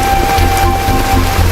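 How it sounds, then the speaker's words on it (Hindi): Steady rain falls in a movie scene, a dense, continuous patter and hiss at even loudness with no pauses and no talk over it. "बारिश हो रही है, बेकार में क्यों भीग रहे हो।"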